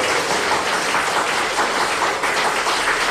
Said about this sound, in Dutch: Luid applaus nadat de rechter heeft uitgesproken dat Lucia de Berk onschuldig is